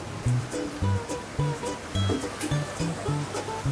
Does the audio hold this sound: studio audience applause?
no